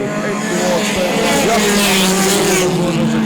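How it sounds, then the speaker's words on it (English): Hotrod race cars at the Night of Champions 2017 roar out of turn 1, several engines droning and rising in pitch as they accelerate past, loud and sustained under a racing announcer's commentary. "I would tend to think the smart money must be on Hendrikus Buerta as they come out of turn 1"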